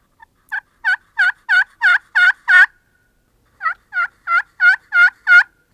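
Slate turkey call yelps, two crisp runs of six to seven evenly spaced yelps rising in loudness, close and alone, with a short pause between the runs.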